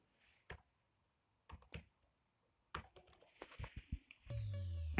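A rule name is typed on a computer keyboard while setting up an email forwarding rule in Outlook. Close, crisp keystrokes come in short separate bursts with pauses between them, then a brief burst of other noise at the end.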